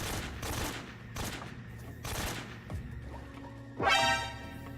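Gunfire in Metal Gear Solid 3 during gameplay: several sharp shots in quick succession over a steady game background, followed by a louder rising whoosh near the end.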